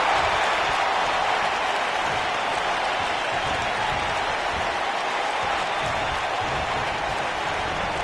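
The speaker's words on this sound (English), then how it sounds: "Listen to this crowd" A wrestling video game crowd roars and applauds in a steady, loud wash of cheering that fills the whole stretch without pause.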